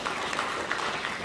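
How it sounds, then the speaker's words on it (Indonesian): Audience applause at a church gathering, a steady wash of clapping hands filling the room for the whole moment with no talk over it. "Beri tepuk tangan dong."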